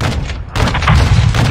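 Gunfire in a military video game campaign, a loud close burst of rapid shots with a short lull and then a heavier volley with booming low thuds.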